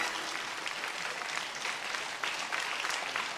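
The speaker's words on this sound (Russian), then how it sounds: "И мы аплодируем человеку, который только что выиграл праздничную суперигру!" Studio audience applause for the winner of the holiday super game on a Russian TV game show, a dense, even wash of clapping that stays moderately quiet and unbroken throughout.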